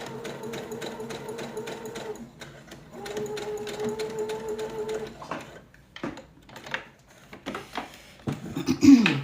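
Sewing machine stitching a tote bag seam in several rapid bursts with pauses between, followed by softer handling scrapes and clicks.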